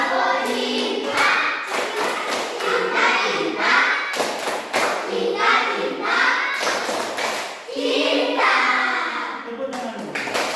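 Children in a classroom stand and perform the rhythmic tepuk cinta clapping chant, sharp patterned handclaps and thumps alternating with chanted voices in quick repeated bursts.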